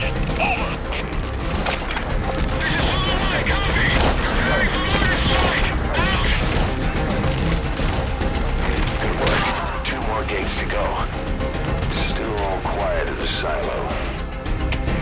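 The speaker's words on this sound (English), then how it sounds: "Lay down suppressing mortar fire on the target." Mortar barrage in the Metal Gear Solid V battlefield, a dense, loud, continuous rumble of blasts, crackling debris and mechanical clatter, with voices speaking over the chaos.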